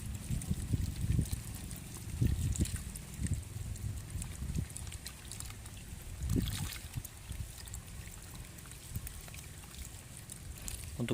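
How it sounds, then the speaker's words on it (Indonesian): Water is poured over potting medium in a plant pot, making a steady soft splashing and trickling that runs throughout with a few louder gushes. "setelah ini kita lakukan penyiraman, siram secara penuh biar media tanam mengisi ke bagian-bagian pot ya"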